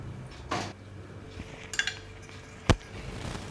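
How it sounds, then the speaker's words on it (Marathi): Two beaten eggs being mixed with salt in a bowl, with a few distinct clinks and taps of utensil against the bowl, including one sharp knock, over quiet background. "अशा प्रकारे छान आपल्याला जोपर्यंत मिक्स होत नाही तोपर्यंत अशा प्रकारे हलवून घ्यायचं आहे आणि मिक्स करून घ्यायचं आहे"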